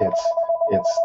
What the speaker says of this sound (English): Excuse my phone from ringing.